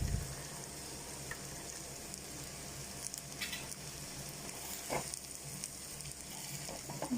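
Five chopped onions sautéing in a hot pan, a soft steady frying hiss with a few faint scrapes and clinks, quiet and close.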